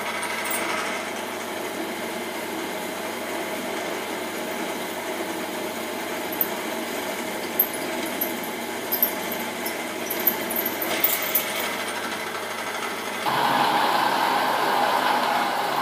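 A Bridgeport milling machine runs steadily with a tangent engineering quill wheel fitted, giving a continuous mechanical hum with light scattered ticks and rattles, then a brief shift to a slightly louder, brighter tone near the end.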